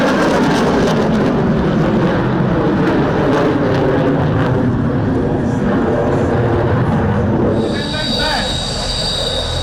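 A Eurofighter jet flying at the Bucharest airshow, a loud, steady roar with a broad rumbling body that stays strong throughout, a high whine rising near the end.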